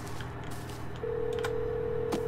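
A telephone in the Hello Neighbor game rings with a steady electronic tone under low background noise, starting about halfway through and holding continuously to the end without talk.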